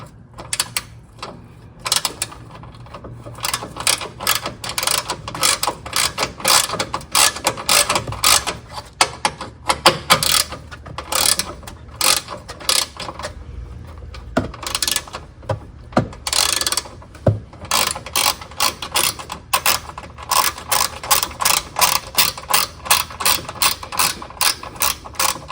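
A ratchet loosens the battery terminal bolt on a Honda Ridgeline: rapid, close clicking pawl bursts in repeated strokes, with brief pauses and slight fumbling between runs, no talk.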